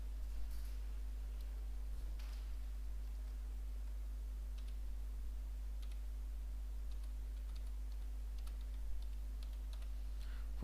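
Faint, scattered clicks of typing on a computer keyboard sit under a steady low electrical hum, with no voices.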